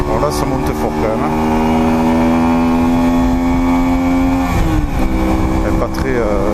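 A Honda Shadow 125 motorcycle engine pulls hard uphill, a loud steady droning note that holds, then shifts pitch partway, with a rider talking over it.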